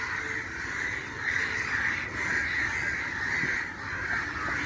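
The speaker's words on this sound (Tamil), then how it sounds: "மேலே காக்காங்க பறந்துட்டுருக்கு" Crows caw overhead above a garden, harsh calls repeating several times at a moderate distance against steady background noise.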